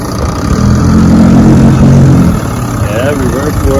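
Vintage 6 horsepower outboard motor running in reverse, a steady low engine drone that holds loud and close for the whole stretch, easing slightly near the end as a voice begins speaking over it.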